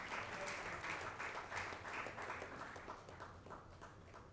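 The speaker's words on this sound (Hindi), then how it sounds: "प्लीज़ ज़ोरदार तालियां।" An awards show audience applauds a guest being welcomed onstage. The clapping is thick and continuous and stays fairly close, gently easing in intensity toward the end.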